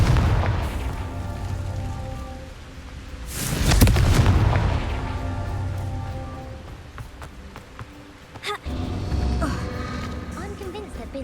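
A deep booming blast from the Confringo fire spell in Hogwarts Legacy swells and rumbles for about a second amid quieter game ambience, with a sharper crack later on.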